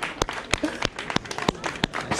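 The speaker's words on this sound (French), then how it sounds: "On peut l'applaudir quand même parce qu'il y a beaucoup de monde." Scattered, uneven clapping from an audience at a hypnosis show, cheering a participant; the individual claps are loose and irregular and mix with some voices.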